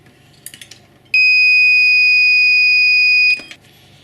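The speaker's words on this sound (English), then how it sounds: "the alarm will sound because the magnet will be lifted too high." The alarm on a Double Alpha magnetic powder check station for ammunition reloading sounds as a loud, steady electronic beep that lasts about two seconds, with light mechanical clicks just before and after it.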